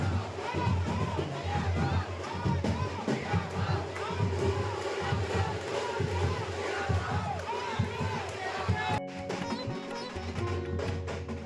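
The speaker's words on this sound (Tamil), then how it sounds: "தீச்சட்டி ஏந்தி வந்துக்கிட்டு இருக்கிறவரை சுற்றி இருக்கக்கூடிய பக்தர்கள் ஆரவாரமாக வந்து கரகோஷம் எழுப்பி" Temple devotees cheer, shout and clap in a dense crowd around a fire-pot bearer at a festival, a loud continuous roar of voices. The noise ends suddenly in an abrupt cut to a different steady tone.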